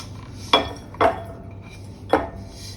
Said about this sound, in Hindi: अब मैं गैस ऑफ करके इसे एक बर्तन में खाली कर लूँगी।